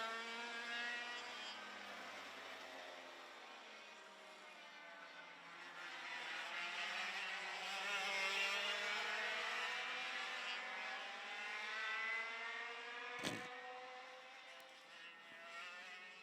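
Several 100cc classic racing karts on a circuit, heard from a distance: thin, buzzing two-stroke engine notes rise and fall in pitch as they lap and pass, with one brief sharp crack near the end.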